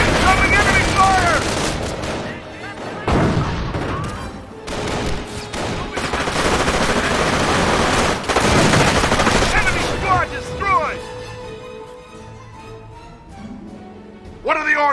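Gunfire in the World War II strategy game Company of Heroes during a battle over Cauquigny, with loud rapid machine-gun bursts, heavy booms and soldiers shouting over the din.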